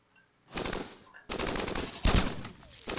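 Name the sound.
cannons firing a volley in the video game Cogmind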